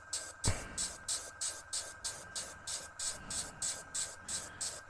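An airbrush sprays paint in short repeated bursts onto a panel of a Tamiya M1A2 Abrams scale model, a steady hiss pulsing about twice a second with a faint tone running underneath.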